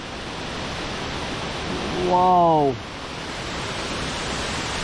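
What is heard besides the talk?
waterfall at Khlong Lan, rushing water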